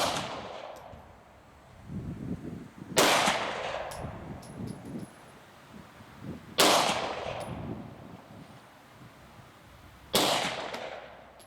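Three loud gunshots ring out at an outdoor shooting range, spaced a few seconds apart, each with a sharp crack and a trailing echo over quiet background noise.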